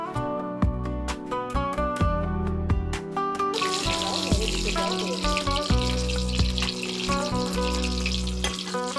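Salted tomato slices dipped in gram-flour batter fry in hot oil, giving a continuous hissing sizzle that grows denser midway, partly masked by loud tonal music playing over it.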